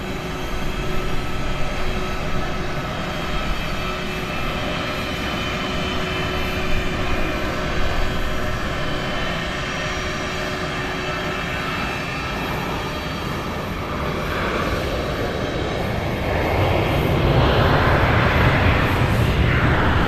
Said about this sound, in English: Southwest Flight 2959 from Denver is about to touch down.